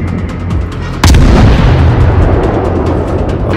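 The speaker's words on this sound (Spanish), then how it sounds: "Están disparando." Naval guns fire from warships in World of Warships Blitz: a single loud, sharp cannon blast hits after a low rumbling background, then a long, heavy booming roar lingers and slowly fades.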